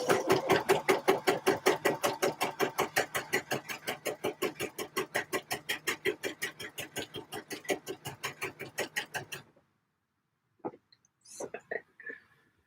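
A sewing machine stitches a single layer of dress fabric in a fast, steady run of needle strokes for about nine seconds, then stops; a few brief, faint sounds follow in the quiet.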